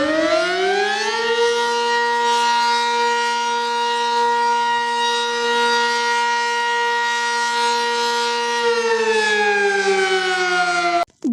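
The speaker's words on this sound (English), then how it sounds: "This is the real Lebanese siren." Lebanese civil defense siren sounding loud and steady, its tone rising at the start, holding level for about nine seconds, then winding down before cutting off abruptly.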